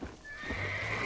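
A wild horse neighs in a short, close whinny while being tamed in Red Dead Redemption, with faint hoof thuds beneath and no talking.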